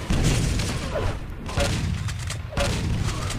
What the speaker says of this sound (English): There he is, spamming that shotgun from distance